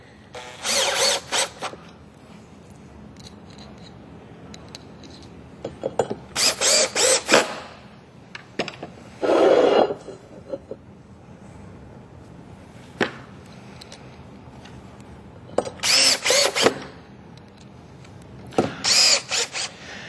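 A power drill drives standard number 10 work surface screws through pre-drilled holes into the blocks of a panel system, in several loud whirring bursts separated by quiet pauses, with no voices.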